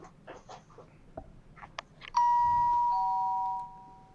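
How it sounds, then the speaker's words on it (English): A doorbell chimes once at 3 a.m., a long clear electronic tone that rings out and fades, preceded by faint scattered rustles and thumps in a quiet room. "ringing the doorbell at 3 in the morning"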